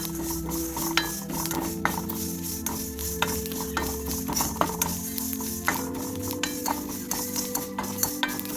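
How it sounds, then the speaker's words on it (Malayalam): Herb leaves dry-roast in a pan with a soft continuous rustle and a gentle sizzle, broken by scattered scrapes and clinks of a spoon stirring against the metal. No one speaks. "അപ്പം പൊടിക്കേണ്ട പാകത്തിൽ നമുക്ക് ഇതൊക്കെ ഒന്ന് വറുത്തെടുക്കാം"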